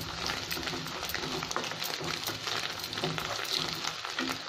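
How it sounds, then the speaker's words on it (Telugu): Egg frying in oil in a pan, a steady crackling sizzle with popping spatters throughout, close and moderately loud with no talk over it. "చిట్టపట్ల ఆడినట్టు ఫ్రై చేయండి"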